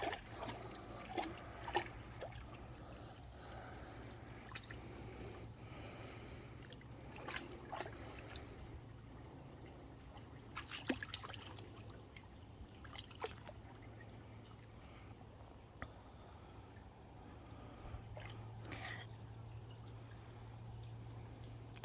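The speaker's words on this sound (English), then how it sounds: "Odin, I'm not getting in the creek." A creek trickles and babbles quietly outdoors with a faint steady water murmur, scattered small splashes and clicks over a low constant hum.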